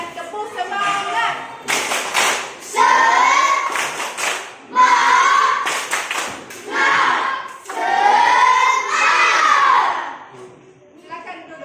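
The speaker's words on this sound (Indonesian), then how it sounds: "tepuk semangat" Schoolchildren in an Indonesian classroom perform a rhythmic spirit clap, bursts of sharp, patterned clapping in short groups with young voices chanting along between and over the claps.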